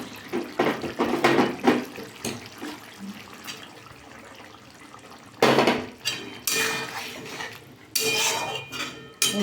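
Water running and splashing as a bowl of ground mustard and poppy-seed paste is rinsed into a cooking pan, with bursts of pouring, metal and ceramic clinks and knocks in uneven clusters.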